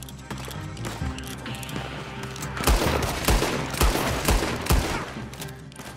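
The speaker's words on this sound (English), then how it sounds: "classic team gunfight" Gunfire from a team gunfight in the video game Red Dead Online, a dense fusillade of rapid overlapping shots with heavier booming reports toward the end, loud and continuous.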